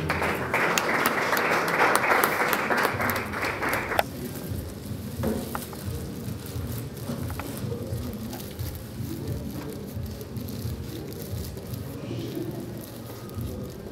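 Applause from a conference audience on entrepreneurship in Kinshasa, a loud dense clapping for about four seconds that then fades into murmuring room noise.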